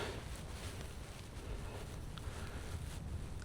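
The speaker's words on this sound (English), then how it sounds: "because the wind is blowing" Wind in the Namib desert during a field recording: a steady, low, rumbling gusty roar buffeting the microphone, fairly quiet and continuous, without voices.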